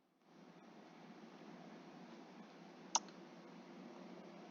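A single sharp computer mouse click, faint and close, sounds once over a quiet background hiss.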